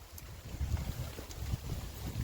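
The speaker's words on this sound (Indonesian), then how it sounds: "Hujan angin." A wind and rain storm sweeps over a mountain hiking trail on Gunung Butik, a steady low roaring rush with gusty buffeting against the microphone and a wash of noise all through.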